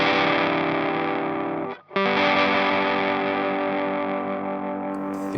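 Wayne hybrid fuzz pedal run with its Strife control low, giving a thick, weird textured distortion that sustains loudly, breaks off in a brief gap, then swells back in and holds.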